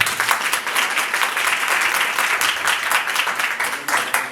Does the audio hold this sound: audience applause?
yes